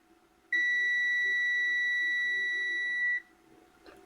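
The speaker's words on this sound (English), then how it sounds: "No, it's just that it's 7 ohms, so it beeps." A multimeter sounds one clear continuity beep while testing a Nexus 350W ATX power supply. The pure steady tone lasts about two and a half seconds against a quiet background.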